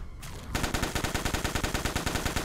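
A pulse rifle fires in the video game Lakeview Cabin, a loud, rapid, evenly spaced burst of shots that starts suddenly after a brief quiet moment and keeps going steadily to the end.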